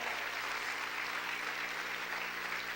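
A church congregation claps during a Spanish-language sermon, producing a thick, unbroken roar of applause over a low steady hum, loud and even throughout.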